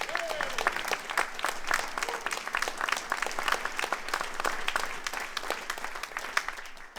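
A theatre audience at a festival staging of a Montségur play applauds warmly, with sharp individual claps standing out from a thick, sustained round that continues throughout.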